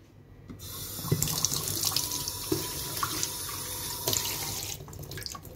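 Warm water runs steadily from a kitchen tap into a container, a continuous close splashing stream that starts abruptly and stops near the end.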